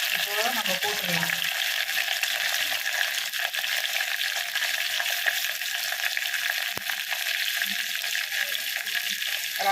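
Garlic, both a single clove and whole bulbs, is dropped into a hot pan for rasam and fries with a steady, loud hiss and crackle that runs without pause, with faint stirring and clatter near the start.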